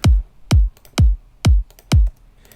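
Five punchy kick drum sample hits land at an even, steady pace, each a deep thump with a quick decay and faint ticks between.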